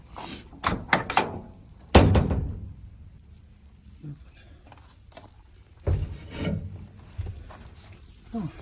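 A 1985 Chevy K10 pickup truck door clunks and rattles open with a few sharp knocks and thuds, followed by more handling noises and a later thump.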